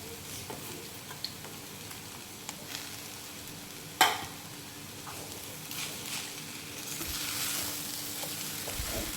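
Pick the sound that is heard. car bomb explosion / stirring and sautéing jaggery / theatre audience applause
stirring and sautéing jaggery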